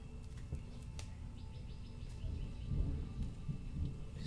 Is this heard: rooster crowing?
no